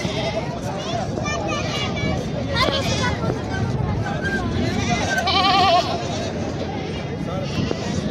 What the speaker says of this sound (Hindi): और ये देखिए दोस्तों देसी बकरा।